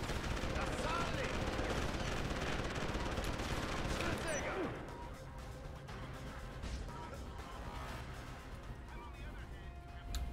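Dense, rapid automatic gunfire in Deus Ex: Human Revolution rattles close and loud for about five seconds, then drops to scattered, quieter shots and background rumble.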